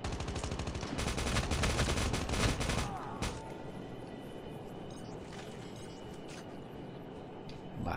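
Rapid automatic gunfire in the mobile shooter Call of Duty Mobile, a loud dense burst for about three seconds, then a few scattered shots and distant pops over a game ambience.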